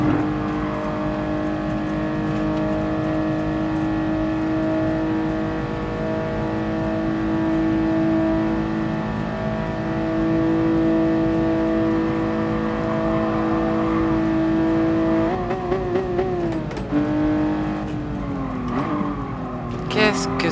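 Toyota 2000GT engine in the racing game GT Sport, a steady droning hum holding revs for a long stretch, then shifting and revving up and down in the final seconds, loud and close.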